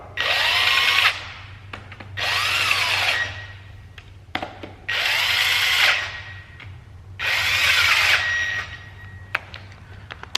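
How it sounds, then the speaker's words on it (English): Four loud bursts from an impact wrench running down connecting rod bolts on a Summit Pro LS 5.3L engine build, each lasting about a second and separated by short pauses, close and alone. "Run them down with the impact and we're done."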